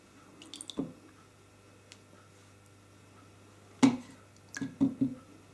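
Wet hands pat and smooth low-protein bread roll dough, giving soft squishy slaps and damp clicks in short clusters, close and quiet against a faint steady hum, with gaps of near silence between touches.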